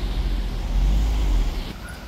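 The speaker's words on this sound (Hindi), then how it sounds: "सारी ट्रैफिक जाम हुई हुई है जी।" Traffic is backed up on Stratford Road in Sparkhill, Birmingham, where a burst pipe has flooded the road and closed it. A close, loud, low engine rumble from idling or crawling vehicles is heard without talk.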